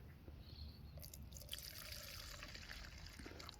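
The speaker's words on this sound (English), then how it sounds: "So give it a good shake." A bottle of Fabsil liquid gets a good shake, with the fluid sloshing and splashing in short irregular bursts at close range, fairly quiet and with no talking.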